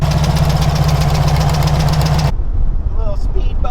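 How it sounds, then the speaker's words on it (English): A restored dune buggy engine idles steadily with a loud, even mechanical drone and rhythmic pulse that cuts off abruptly partway, leaving quieter shop ambience. "The engine's nice and quiet."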